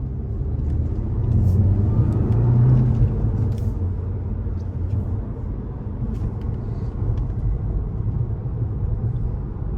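A 2016 VW Golf R with a turbocharged engine and six-speed manual pulls steadily on the road, its low engine rumble swelling for a few seconds and then settling into an even drone with road noise, no talking.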